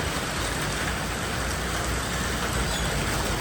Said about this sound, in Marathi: पाऊस कसला जोरात चालू आहे.